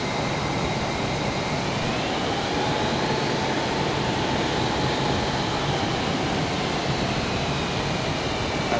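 MiG-29 Fulcrum jet engines whining steadily as the fighter taxis at RAF Valley in Wales, a loud continuous roar with a faint rising tone, no voices.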